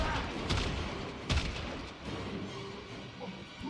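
The Vectis rifle in the Warframe video game gives off a burst of heavy booming thumps and mechanical clatter, with one sharp loud hit and game sound effects under faint in-game voices.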